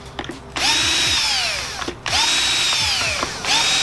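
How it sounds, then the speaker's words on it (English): A power drill with a 9/64 bit bores holes in short whining bursts, near and loud, with the motor pitch sliding as it spins up and slows between holes. "we'll grab our wire ruler and a 9/64 drill bit"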